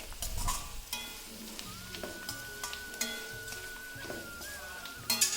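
Spices are stirred into radish pickle with a spoon, giving close scraping and rustling stir strokes with a faint sizzle beneath, no one talking.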